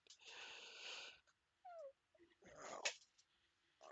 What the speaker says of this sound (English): Don't mind the yawning.